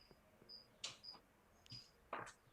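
Crickets chirping faintly in the background of a room, short high-pitched trills recurring every second or so amid a few soft knocks and low hum.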